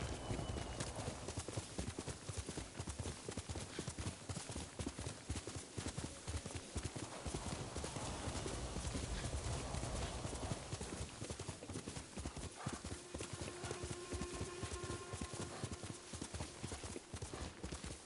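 A horse's hooves clip-clop in a steady walking rhythm through Ghost of Tsushima terrain, moderately close, with a soft whinny-like tone later and faint ambient sound underneath.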